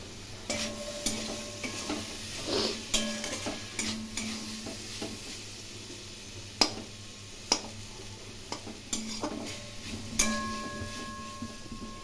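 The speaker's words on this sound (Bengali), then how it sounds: "এখন খুব ভালো করে কষিয়ে নেব আলু, পটল এবং মশলা।" Potato and pointed gourd frying with turmeric, a little sugar and spices in a pan, stirred by a utensil that scrapes and clinks repeatedly over a steady soft sizzle, close and fairly quiet.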